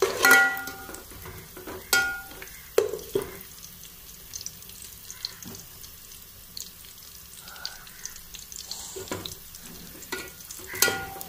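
Cashews and raisins frying in a pan for biryani, a soft low sizzle with occasional spatula scrapes and clinks of metal, fairly quiet and close, with no voices.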